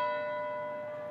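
A single church bell rung across Canada for Remembrance Day, one clear, sustained metallic tone that hangs and slowly fades, fairly faint and alone.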